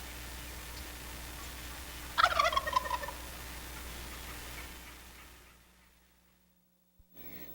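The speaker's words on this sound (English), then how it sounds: "there's nothing like the sounds of turkeys in the spring" Wild turkeys gobble in spring with one distant, rapid rattling gobble over steady outdoor background noise. Quiet follows as the ambience fades.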